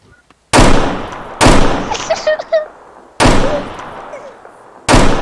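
Loud, close gunfire in the Roblox game South London 2, with sharp reports landing in separated bursts through the stretch, some lasting over a second, and brief chirpy game sounds between them.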